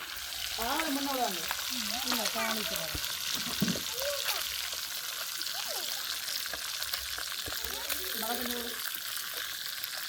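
Continuous sizzling and crackling of dried fish frying in oil, with people talking in Tamil over it throughout.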